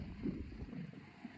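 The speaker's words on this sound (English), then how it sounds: "It's a little windy" Wind blows outdoors at a warehouse, a steady low rumble of gusts buffeting the microphone throughout, with no other clear sounds.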